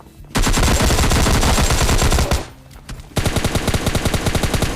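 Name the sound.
gunfire in the video game PUBG Lite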